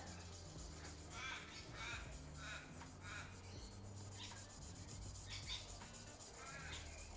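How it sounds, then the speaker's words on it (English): A metal oil catch can for a car is buffed with a rag and polish, giving faint, rhythmic rubbing strokes that repeat steadily against a low background hum. "you've gotta use a bit of elbow grease, just really get the polish going, and it'll go black"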